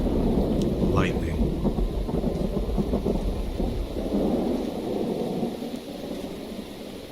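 Thunderstorm in the city-building game Songs of Syx, with steady rain and rolling thunder filling the background at moderate loudness while someone talks over it.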